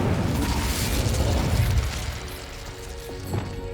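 The Incendio fire spell is cast in Hogwarts Legacy, giving a loud, whooshing burst of flame with a booming thump that swells and then fades, followed by a lighter crackle near the end.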